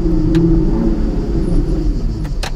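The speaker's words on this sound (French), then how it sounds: "Écoute le grognement du V12." Aston Martin V12 Vantage S with its V12 engine growling in sport mode while driving through a village, a deep, loud, steady rumble with a couple of brief sharp ticks over it.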